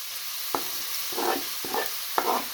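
Grated turnip frying in a pan for halwa, with a steady sizzle and several distinct scraping stirs of a spoon at regular intervals, close up.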